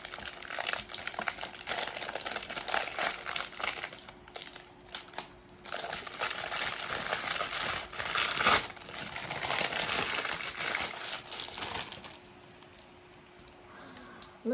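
Packaging for a pop-it fidget toy is torn open and crinkled, a dense, fairly loud plastic rustle that goes on for about twelve seconds with brief pauses, then quiets.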